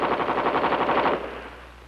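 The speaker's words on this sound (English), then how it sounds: "When the instructor causes a malfunction, the student grabs an M14 and keeps firing." M14 rifle fired from a helicopter during door-gunnery training, a rapid burst of about a dozen evenly spaced shots over rotor and engine drone, which carries on alone after the firing stops.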